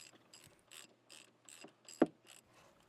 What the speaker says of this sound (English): Using a 7mm Allen socket with a 1/2 inch drive ratchet, remove the caliper pins.